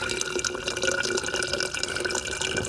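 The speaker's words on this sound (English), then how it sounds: "so I can just pour it right into my bottle without getting all the pine needles into it" Pine needle tea pours steadily through the strainer holes of a lid into a bottle, giving a continuous close trickling and splashing of liquid at moderate volume.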